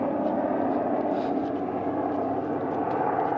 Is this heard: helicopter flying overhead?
yes